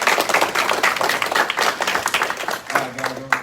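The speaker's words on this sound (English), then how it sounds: "So big round of applause for Mr." Applause and clapping at a martial arts black belt promotion ceremony, a modest group clapping briskly with individual claps audible, close and moderately loud, tapering slightly toward the end.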